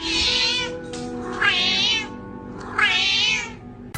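A cat meows three times in a row, loud and close, each call a drawn-out wavering whine with short pauses between, and no one speaking.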